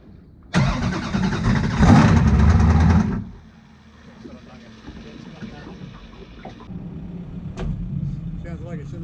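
A V8 twin-turbo sprint boat engine bursts into a loud, rough rev for a few seconds, then drops to a knocky, uneven idle like an old truck, with people talking nearby.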